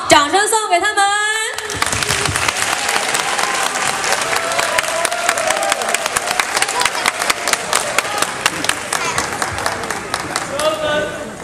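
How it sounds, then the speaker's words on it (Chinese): Applause for performers at a graduation ceremony: a brief voice opens, then a large crowd breaks into dense, sustained clapping that carries on loudly for about ten seconds. "掌声送给他们"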